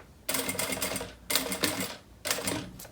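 A sewing machine runs in three loud, steady bursts while stitching piping onto a fabric bag, with brief pauses between runs and no talking.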